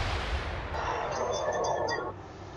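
Video game gunfire rattles off in a quick burst of sharp rounds over a low rumble, fairly faint and mixed with game effects.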